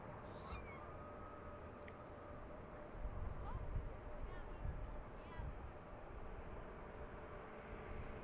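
A jet airliner arrives at Washington Reagan National Airport: a broad, distant rumble swells slightly mid-clip over steady outdoor background noise.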